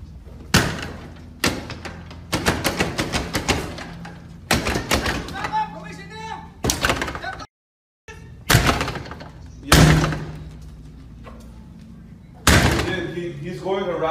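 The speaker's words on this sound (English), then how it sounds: "He's going erratic. He's about to break the door. I don't know if you hear that." Loud, irregular slams and thuds as a man bangs on a Burger King door, repeated heavy impacts spread across the span with a person talking between the blows.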